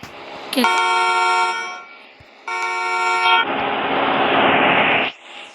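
A taxi car horn in a Roblox game honks in two long, loud, steady blasts separated by a short gap, followed by a softer noisy burst, with no talking.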